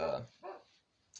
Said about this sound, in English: sorry about the dog going crazy out there.